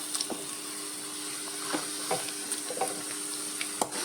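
Tapioca vada fry in hot oil with a soft, quiet sizzle broken by scattered ticks and light clinks, over a faint steady hum and without talking.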